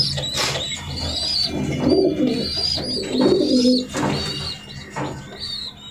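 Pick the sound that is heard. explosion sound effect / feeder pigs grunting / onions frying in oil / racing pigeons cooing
racing pigeons cooing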